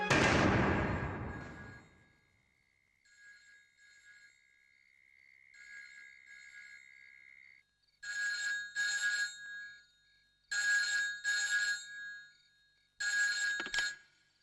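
After a number is dialed, a thump and a thin steady tone give way to a telephone ringing in three clear, evenly spaced bursts, alone and fairly close.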